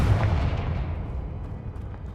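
A Confringo fire spell bursts in Hogwarts Legacy, a heavy booming blast that rolls into a low, rumbling tail lasting a couple of seconds, with no voices over it.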